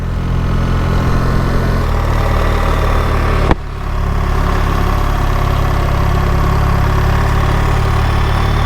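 BMW R 1300 GS motorcycle engine running steadily while riding into falling snow on a mountain road, a loud continuous low drone with a brief dip midway, no talking.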